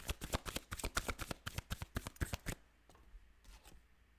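Tarot cards riffled and shuffled in a rapid run of crisp, close flicks for about two and a half seconds, followed by a few softer slides and taps as single cards are drawn from the deck in a quiet room.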